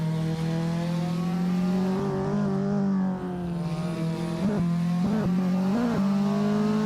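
A race car engine in the Assetto Corsa sim racing game, on a touge mountain road course, drones steadily with its pitch swelling and dipping through repeated revs and shifts, heard alone at moderate level.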